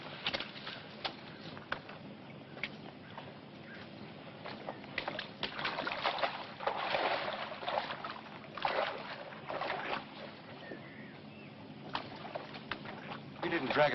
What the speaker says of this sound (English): James, give me a hand with the boat.